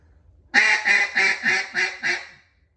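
A duck call sounds a greeting call, a descending series of six loud, raspy quacks, evenly spaced and close, with nothing else around them.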